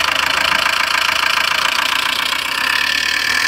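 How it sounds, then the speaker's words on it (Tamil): A Tata Sumo engine idles steadily close by, a constant loud rattling hum with even, rapid pulsing throughout. "இன்ஜினோட நாய்ஸை லைவாக கேளுங்க"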